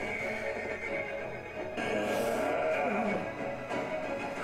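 A horse neighs and whinnies in an anime scene from Vinland Saga, over a dense bed of background music and noise, the call rising loudly for a couple of seconds.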